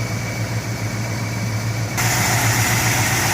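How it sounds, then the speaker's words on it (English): A 1960 Chrysler 300F engine idles steadily with a low, even rumble, growing slightly louder and brighter partway through. "The engine seems to run okay."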